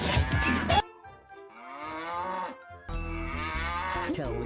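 Three loud, drawn-out cow moos ring out one after another, close and clear, each a low resonant bellow with brief quiet gaps between them and no voices.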